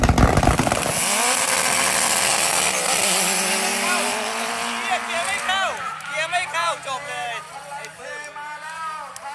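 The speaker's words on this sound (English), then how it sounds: "Oh, is this finally going to make a pass? It is. The turbocharged K-Swap CRV, first gen." Turbocharged K-swapped first-generation Honda CRV launching on a drag strip: a loud, buzzing high-revving engine strains and climbs, then pulls away into the distance while crowd noise and a nearby commentator's voice continue over it.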